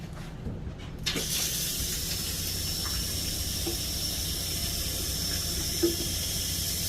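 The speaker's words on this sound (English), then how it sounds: "And then you turn on your hot water." Hot water starts running from a tap inside a Grand Design Solitude 2930RL RV, a steady hissing spray that begins abruptly and continues evenly at close range, with faint knocks in the background.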